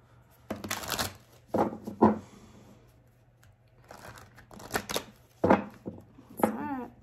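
Tarot cards are shuffled in several quick riffling bursts with quiet pauses between them, close up, ending with a faint murmur of a voice.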